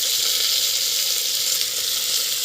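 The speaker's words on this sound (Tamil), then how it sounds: "நல்லா வந்து வதக்கி வச்சுக்கோங்க." Shredded cabbage sautéing in a pan: a steady, loud, hissing sizzle that holds evenly throughout with no pauses and no voices.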